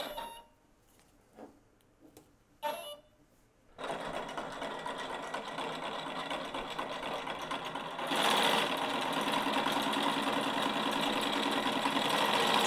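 A 3D-printed PLA Scotch yoke tide-predicting mechanism driven by a motor at high speed, giving a loud, steady mechanical whirr and rattle that kicks up even louder partway through, after a few brief knocks at the start.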